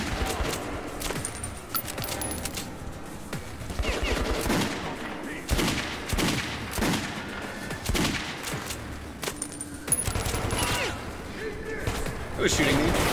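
Gunfire in the video game Metro 2033 Redux, shots striking toward the player in repeated bursts and fusillades over a steady game soundscape, loud and close, with no talk.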